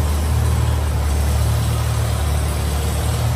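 An antique Farmall tractor engine idles steadily at close range, a deep low rumble with a constant throb that holds even for the whole stretch, with no talk over it.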